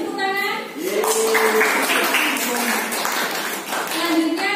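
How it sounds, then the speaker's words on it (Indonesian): A classroom of students claps for a group that has just presented, a lively burst of many hands lasting a few seconds, mixed with voices and children's chatter. "Beri tepuk tangan."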